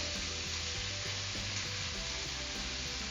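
Red and green peppers and onion sizzle in a hot pan as they are stirred, giving a steady, dense frying hiss with soft scraping of the spoon, close and continuous, with no voices.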